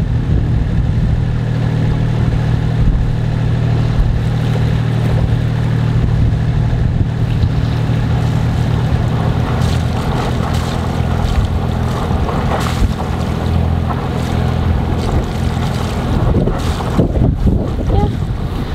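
A sailboat motors into a Swedish harbour near Gothenburg in a strong gale. Heavy wind buffets the microphone over a steady low engine drone and splashing water throughout.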